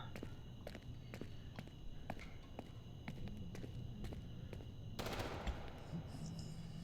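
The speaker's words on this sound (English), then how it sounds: "Gunshots in the distance." Sharp cracks of distant gunfire in the video game Into the Dead pop in irregular bursts over a steady background rumble and footsteps, followed by a louder rushing burst of noise.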